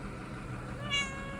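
A pet cat gives a single short meow close by, standing out over a quiet room hum, with no one talking during it.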